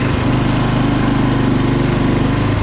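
A Toro Wheel Horse lawn tractor that had sat for over ten years, climbing a hill in fifth gear: a loud, close, steady engine drone with a pulsing low chug, heard alone.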